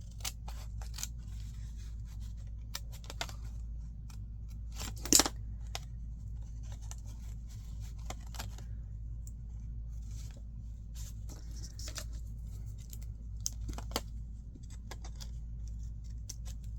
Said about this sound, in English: So what you're going to do is you're just going to cut up to where you just trimmed.